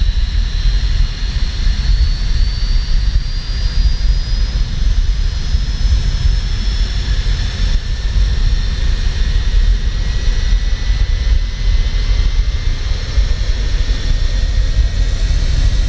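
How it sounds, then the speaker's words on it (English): Pratt & Whitney JT8D jet engine of an MD-80 in Microsoft Flight Simulator, a loud constant roar with a rising whine layered on top, steady and unbroken throughout with no voices. "Let's listen to the magnificent sounds of the JT8D."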